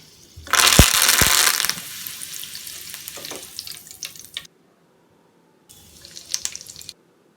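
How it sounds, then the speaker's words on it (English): Curry leaves fry in hot oil as a garnish, giving a loud, dense crackling sizzle that slowly eases, cuts out, then returns more quietly with brief pops; no voices. "Now I'm gonna fry the curry leaves for garnishing."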